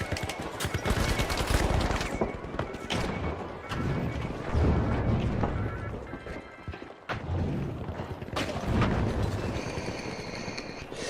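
Gunfire in the video game The Finals: dense, rapid volleys of sharp shots and mechanical clatter that go on for the whole stretch, fairly loud and overlapping.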